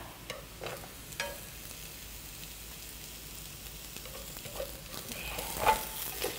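Goat bulgogi sizzles quietly in a pan with freshly added mushrooms and onion, a soft continuous frying hiss broken by a few light stirring scrapes and clicks.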